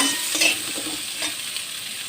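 Pumpkin pieces frying in oil with panch phoron, a close bright sizzle accompanied by repeated scraping stirs of a spatula against the pan.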